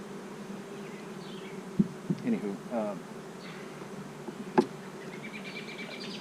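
Honey bees buzz steadily at a hive as a low continuous drone, with a few soft knocks and a brief spoken word over it.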